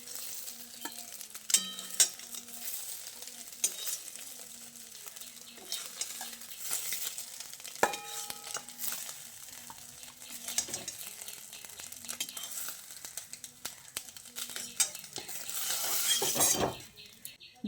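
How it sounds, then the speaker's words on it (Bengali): Egg and raw potato omelettes are lifted out of a sizzling frying pan into a bowl, with steady frying hiss under repeated metal spatula scrapes and clinks against the pan. "এবার আমি এই ডিমের অমলেটগুলোকে একটা পাত্রে তুলে নিচ্ছি।"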